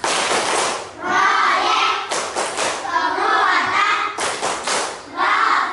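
A classroom of Indonesian children performing the 'tepuk kelima' clapping chant, loud bursts of group clapping and shouted rhythm in several bouts separated by brief pauses, with a teacher's voice among them.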